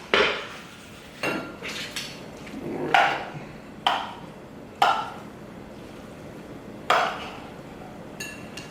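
Shrimp scampi is tossed in a pan and plated, with a series of separate metallic clanks and clinks from pan and utensils spaced a second or so apart, close and fairly loud.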